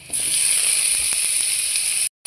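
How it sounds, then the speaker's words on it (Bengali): Chopped tomato frying with spices in a pan for pabda fish bhuna, a steady close sizzle with occasional small clicks and stirring, cutting off briefly near the end. "এবার আমি টমেটোটাকে ভালোভাবে মশলার সাথে কষিয়ে নিচ্ছি।"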